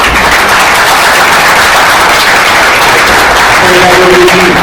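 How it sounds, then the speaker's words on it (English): Loud, continuous applause from a Lee County chamber event audience, thick clapping that runs unbroken throughout with a faint tonal hum near the end. "Let's give them, first round of applause"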